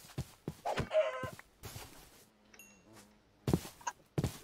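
Chickens cluck in bursts during a video game, short close clucks and squawks spread across the moment with quiet gaps and a faint tonal game sound between them.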